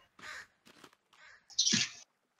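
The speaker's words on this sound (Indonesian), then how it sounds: "Oh, ada burung." A bird cawing in The Forest survival video game, a single loud crow-like call lasting about half a second, preceded by faint, quieter sounds.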